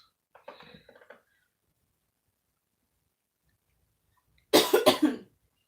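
Two bursts of coughing with silence between: a light, raspy cough first, then a louder, harsher cough close by.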